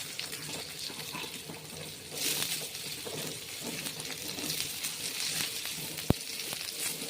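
Onion sizzles in a pan with coriander seeds, cumin and a piece of cinnamon while anda curry masala is cooked. A steady, close crackling hiss runs throughout, with one sharp click near the end.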